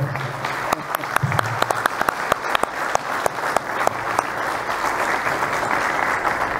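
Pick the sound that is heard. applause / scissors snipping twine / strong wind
applause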